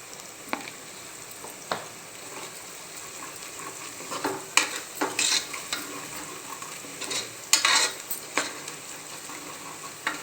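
Turmeric going into hot oil in a pan for a chicken dish, a soft steady frying hiss with a few louder bursts of sizzle and scraping clatter as it is stirred, close up and without talk.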